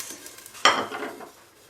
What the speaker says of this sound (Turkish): İçine önce biberlerimizi atalım.